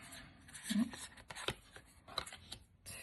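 Quick papery riffles and soft flicks of a deck of cards being shuffled close by, in a few short bursts.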